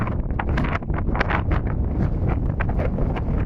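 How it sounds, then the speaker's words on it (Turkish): Strong wind roars and buffets the microphone without pause over a dry riverbed in Cappadocia's Old Village, a constant low rumble and rush. "Çok rüzgarlı nehir yatağı bugün, çünkü burası aynı zamanda kurumuş nehir yatağı."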